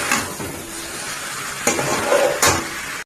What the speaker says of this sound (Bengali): এবারে আমি মানে ফ্লেমটা কমানো বাড়ানো করে ভালো করে চিকেনটাকে কষিয়ে নেব।